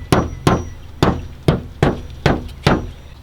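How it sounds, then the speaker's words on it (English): Seven sharp metallic hammer blows strike car body sheet metal at a steady pace, knocking down high points of a dent, each ringing briefly, close and loud. "You're hammering in the high points."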